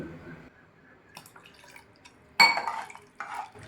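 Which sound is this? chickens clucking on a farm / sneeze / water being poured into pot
water being poured into pot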